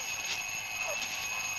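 An alarm clock rings with a steady, high electronic tone that pulses faintly and goes on unbroken, fairly quiet and alone.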